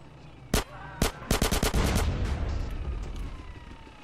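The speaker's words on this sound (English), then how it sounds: "Guess I have to use the rocket launcher." Rocket launcher fire in GTA San Andreas: two sharp, separate blasts, then a rapid cluster of bangs that rolls into a heavy rumble and slowly fades away.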